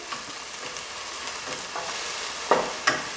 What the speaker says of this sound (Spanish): Voy a revolver.